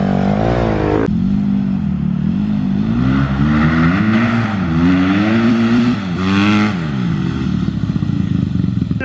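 Two Honda dirt bikes, a CRF150R and a CRF150F, race flat out uphill from a rolling start, their engines revving hard and rising in pitch through repeated gear changes, loud and close throughout.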